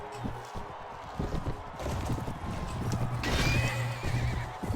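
A horse whinnies loudly after being struck in the Mount & Blade Warband video game, with a shrill neigh rising over galloping hoofbeats and the scuffle of combat.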